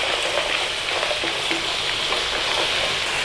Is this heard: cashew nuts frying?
yes